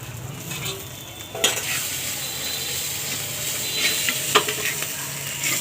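Onion, shrimp and green chilies fry in a pan with a steady sizzle, broken by a few sharp clanks and scrapes of stirring, close by and without talk.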